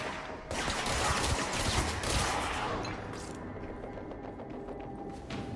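Bursts of rapid gunfire from a weapon in the video game Control, dense and loud at first, then tapering into lighter sustained shots with a mechanical tail.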